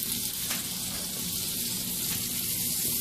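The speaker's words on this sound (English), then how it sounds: "I'm going to go ahead and add my 2 tablespoons of butter" Two tablespoons of butter melt in a clean pan, giving a dense, steady sizzle like rushing water that stays constant and fairly loud throughout, with no talking.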